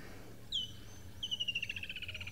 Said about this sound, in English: There's a whole chorus, and it just amazes me that we can actually hear these birds but not see them.